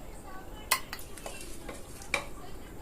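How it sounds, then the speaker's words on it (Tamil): Cooked bottle gourd is mashed in a hot pot with a dal masher, giving rhythmic wet swishing and churning with two sharp knocks against the pot. "இந்த மாதிரி ஒரு பருப்பு மத்து வச்சுக்கிட்டு நல்லா நைஸாக கடைஞ்சி எடுத்துடுங்க"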